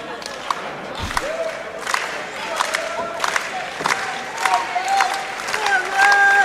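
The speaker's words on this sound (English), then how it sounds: "Fans clapping along, enjoying every minute of this bout." A wrestling arena crowd at a Rey Mysterio versus Ricochet match cheers and shouts loudly throughout, with scattered clapping in the mix and a commentator talking over it.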